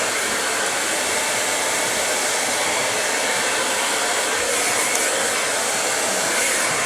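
A hair dryer blows hair dry in a salon with a steady, loud, unbroken rush of air lasting several seconds, close by and with no voices.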